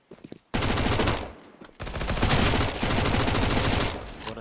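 Sustained automatic MAC-10 submachine gun fire in Counter-Strike, loud rapid bursts close up with a brief pause between two long strings of shots, after a few scattered quieter sounds at the start.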